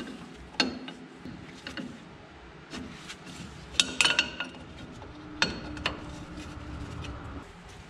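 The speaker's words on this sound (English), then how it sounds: "Undo these mounting bolts right here for your wheel cylinder" Wrench and socket work on the rear brake backing plate of a 1967 Ford Mustang, undoing wheel cylinder mounting bolts, with scattered metallic clicks, clinks and ratchet taps at close range, sharper bursts near the middle and latter part.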